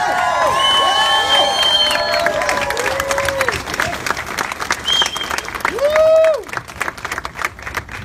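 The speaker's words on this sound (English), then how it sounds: "Round of applause for these artists." A crowd at a Pulse nightclub event in Orlando applauds and cheers for the artists with dense, loud clapping under whistles and raised voices, tapering off toward the end.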